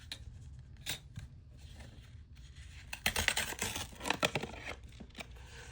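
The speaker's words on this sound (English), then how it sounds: "wasn't thinking that I needed to tear this edge too" A paper card edge being torn by hand during envelope-folio crafting, with soft scratchy rips and crinkles that build into a louder, denser tearing burst midway, close up and without speech.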